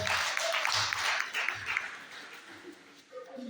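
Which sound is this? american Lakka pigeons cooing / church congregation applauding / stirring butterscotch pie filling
church congregation applauding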